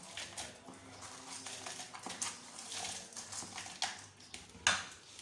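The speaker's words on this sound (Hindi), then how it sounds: "अब हम इसके अंदर अपनी ज़रूरत के मुताबिक बर्फ़ डालेंगे" Ice cubes clink and rattle into a mango milkshake in a kitchen, with a few sharp clatters standing out over steady scraping and handling noise.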